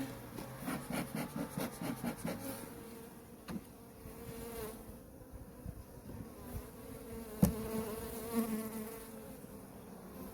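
Honeybees buzz softly around a hive frame during a winter inspection, a continuous faint hum with a few bees droning closer, alongside light rubbing and handling of the wooden frame.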